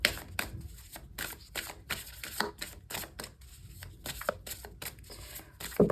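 Oracle cards are shuffled and drawn with quick rapid riffling and flicking bursts, crisp and close, with no voices.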